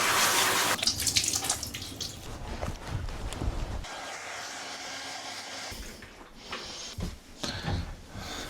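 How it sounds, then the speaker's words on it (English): Shower water running in a steady, broad hissing rush that swells and dips as the spray shifts, with a few knocks and splashes and no talk. "Go inside, have a shower."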